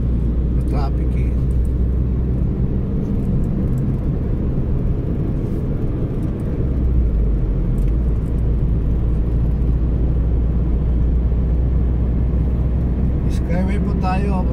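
Car cruising on the Skyway elevated highway toward Taguig in traffic, a steady close engine and road rumble from inside the vehicle, with a brief higher whine near the end.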